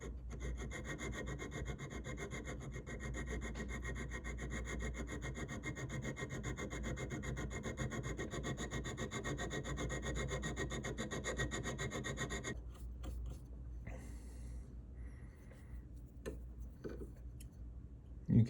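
A metal file rasps in fast, steady strokes against the side stone box of a three-stone metal ring at a bench for about twelve seconds, then stops, leaving faint handling noises.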